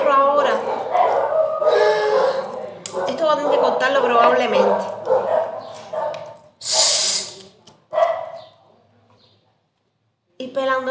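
A dog barks and howls nearby in a home in Mexico, its yips and howls mixed with a person talking throughout, then a sharper burst before the sound drops away.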